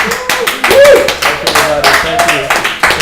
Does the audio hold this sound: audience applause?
yes